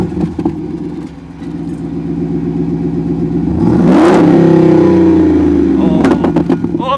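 Jeep Wrangler 392 engine idling, then revved hard in a rising, loud roar that peaks and settles back to a throaty rumble, with a few sharp pops near the end.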